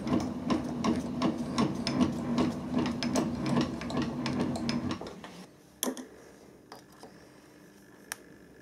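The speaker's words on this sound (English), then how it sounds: "start the drill up, turn it off, and as it slows down" A drill on a mill with a noisy belt runs with a rapid rattling whir, then is switched off and winds down over a few seconds into near quiet, with a couple of sharp knocks afterward.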